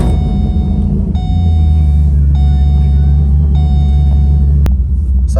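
A cammed Pontiac G8 GT V8 cranks and catches, settling into a loud, steady, lumpy rumble close by, while a few electronic chime tones sound over it.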